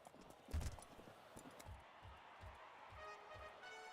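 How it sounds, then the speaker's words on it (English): In Gallop Racer 2004, racehorse hooves drum faintly on the track in a quick, even rhythm, with a brief louder thump near the start and a low murmur beneath. "The horses are on the track."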